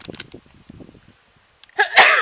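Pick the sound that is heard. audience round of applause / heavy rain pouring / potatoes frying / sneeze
sneeze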